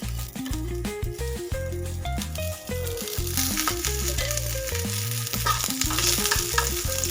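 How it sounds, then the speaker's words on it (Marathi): Onions sizzle steadily in hot oil, a constant frying hiss that carries on throughout under background music, with no talking. "हे आपल्याला तेलामध्ये फ्राय करून घ्यायचे"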